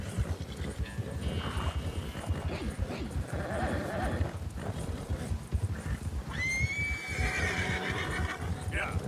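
Horses race in a long-distance contest between a warped brindle Arabian, a buell and a tiger-striped bay Mustang, with a steady drumming of close hoofbeats and a loud shrill whinny near the end, while someone talks throughout.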